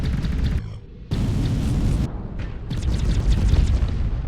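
Gunfire from a weapon in the indie video game Desecrators, heavy and booming, cutting briefly to quieter gaps before the roar resumes, layered over dense game ambience.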